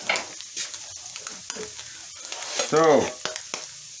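Tomatoes, onions and garlic hitting a hot pan with Spam, a lively crackling sizzle with scattered pops and clinks, plus a short spoken word from a nearby voice.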